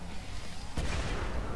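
A single loud gunshot in Killing Floor 2 bursts out midway, a sharp broadband crack with a rumbling tail over a constant noisy game background.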